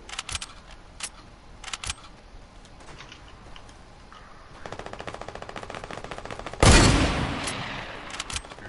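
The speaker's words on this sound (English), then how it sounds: "Yeah, they're shooting up here." Rapid bursts of automatic gunfire in a Fortnite match, scattered single shots building into a sustained rattling volley, then a loud close blast that trails off.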